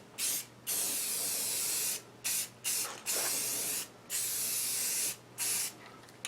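Spray paint hisses in bursts onto a Fay & Scott lathe part, roughly eight sprays of a half second to a second each separated by short pauses, close and clear with no talking.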